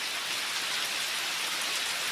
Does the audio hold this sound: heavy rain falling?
yes